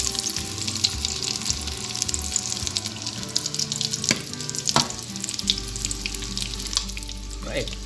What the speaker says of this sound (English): Here you can see our fried eggs.